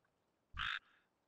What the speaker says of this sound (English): Look at that frog.